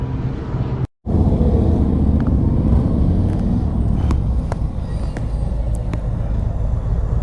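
A 2021 Harley-Davidson Sportster S motorcycle with belt drive rides along, its engine rumbling loud and steady after a brief cut, with no talk.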